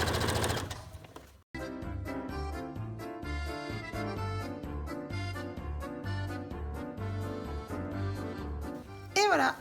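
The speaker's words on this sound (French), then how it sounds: "Je me positionne de façon à piquer à partir de la petite encoche et je vais suivre mes lignes et prendre les 3 épaisseurs ensemble." A domestic sewing machine stitches steadily through three layers of fabric on a homemade cloth mask, its motor humming in a fast, even rhythm close up after a brief pause at the start.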